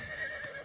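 A horse neighing in the video game The Elder Scrolls IV: Oblivion Remastered, a single short, faint whinny with quivering tone during a bandit fight.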